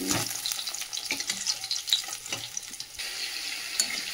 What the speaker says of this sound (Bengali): আর ওদিকে একটু পেঁয়াজ রসুন পেঁয়াজ লঙ্কা ভাজা হচ্ছে।